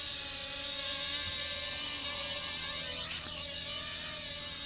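A Hubsan X4 H107L mini quadcopter flies outdoors with a thin, steady electric whine from its rotors. The pitch bends as the drone passes by at a moderate distance.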